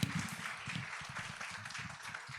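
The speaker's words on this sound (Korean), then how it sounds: "교장 선생님 박수를 한번 맞아주시면" Faint applause from parents at a school education session, welcoming the principal to speak, a short, soft patter of clapping hands.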